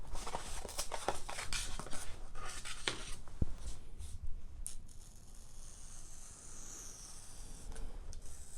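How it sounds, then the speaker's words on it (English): The backside of a razor blade scrapes along a scored line in paper, giving faint scratchy strokes that are quiet and close, with no one speaking. "running the backside of a razor blade down the score, adding the bevel"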